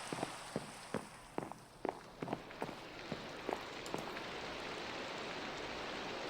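Steady rain falls in an open-air video game scene, a soft continuous hiss with a run of sharp, evenly spaced footstep-like taps over the first four seconds before the rain carries on alone.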